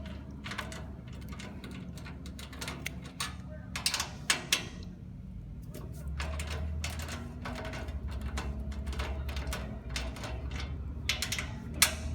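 Loosening the motor mount on a Twister 1 ride to free the pulley belt: a run of sharp metallic clicks and ratcheting taps from the wrench, some in quick bursts, over a low steady mechanical hum.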